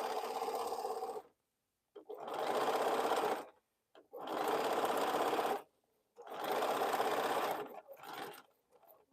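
A sewing machine stitches a quilt in four long, steady whirring bursts separated by short pauses, with a shorter stuttering run at the end, close and without talk.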